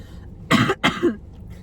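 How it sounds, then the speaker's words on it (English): Two sharp coughs close together, loud and near, in an otherwise quiet room. "I have to cough and I have to say something."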